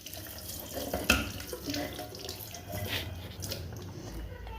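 A tap runs steadily into a sink while something is rinsed beneath it, a continuous close stream with a brief clatter near the start.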